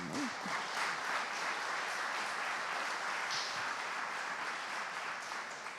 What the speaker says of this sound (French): Vous pouvez l'applaudir, bien sûr.